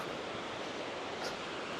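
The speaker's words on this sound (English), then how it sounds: "This waterfall is beautiful." A waterfall in a landscape setting, heard as a steady, dense broadband roar of falling water that fills the whole clip without pause or variation.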